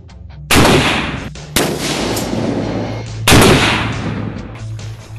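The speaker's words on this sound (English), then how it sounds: "We've got some other things that we're doing with 50 cal AP rounds, armor piercing rounds." .50 caliber armor-piercing rounds fired at armor plating: three loud, close, booming shots with abrupt onsets, each followed by a long rumbling decay.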